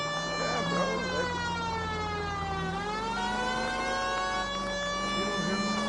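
A wailing police siren in L.A. Noire rises and falls steadily, loud and continuous, with faint voices briefly underneath.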